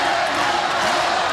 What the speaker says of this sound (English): the crowd urging them on. Trying to raise the decibel level a little bit here